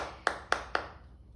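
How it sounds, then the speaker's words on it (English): A single person claps their hands three times in a steady, evenly spaced rhythm, each clap sharp, close and distinct against a quiet room. "I wanna clap for my mother."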